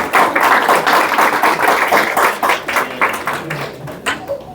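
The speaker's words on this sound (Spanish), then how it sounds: "Dije, un aplauso para papá." A church congregation applauding during a sermon, a loud, dense burst of many hands clapping, sustained and fairly even before tapering off slightly toward the end.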